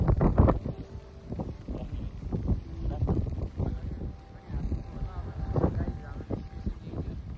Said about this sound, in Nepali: हावा एकदम बढी चल्यो